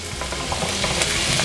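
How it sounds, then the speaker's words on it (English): Zucchini sizzling in hot oil in a pan, a steady, dense crackling hiss with small stirring clicks, heard close and alone. "we're just gonna put the zucchini in here. You'll notice that that's sizzling nice."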